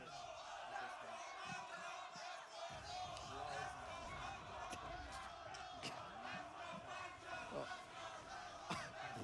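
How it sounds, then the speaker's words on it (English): A large crowd at a tournament final cheering and chanting in unison, a dense roaring wall of voices with rhythmic shouted chants and scattered whoops, heard from close by and sustained throughout. "you guys can hear that. I'm moving closer to the crowd."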